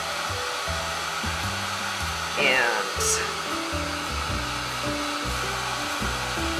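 A hair dryer blows steadily to dry paint on mixed media art cards, a loud continuous whoosh throughout with a brief shift in pitch partway, and a single word spoken near the start.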